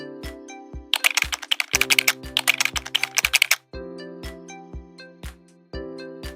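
A computer keyboard is typed on to enter a prompt in Canva's image-to-video tool: close, crisp keystrokes in quick bursts with short pauses between them, and no voices.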